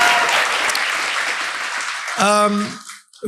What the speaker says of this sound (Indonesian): Saya boleh tepuk tangan dulu ya untuk Mongol ya